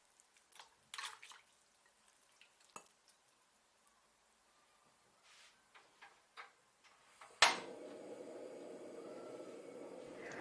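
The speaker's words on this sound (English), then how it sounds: "Put the meat you just cut into cold water." Cut pork pieces go into a pot of cold water. A few light utensil clinks and taps come first, then a sudden close splash is followed by a steady watery rush; no one speaks.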